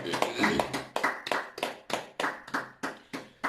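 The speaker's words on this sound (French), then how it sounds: "Acclamons pour le Seigneur" A church congregation claps in worship, with around ten sharp, evenly spaced bursts of hand claps at a steady rhythm, fairly near.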